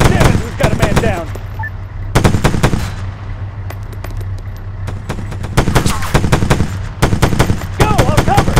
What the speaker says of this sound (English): Machine gun, 75 meters west.